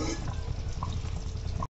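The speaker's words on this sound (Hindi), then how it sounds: "और इसमें थोड़ा थोड़ा पानी डालेंगे।" Water poured bit by bit into gram flour batter with spice in a kitchen bowl, a brief close splashing and trickling that cuts off abruptly, with no talk.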